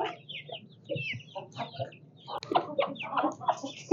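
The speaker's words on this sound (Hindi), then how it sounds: "अपने मुर्गी को नहा दिया" A hen clucks in short, uneven bursts close by, with soft scratching and shuffling between the calls.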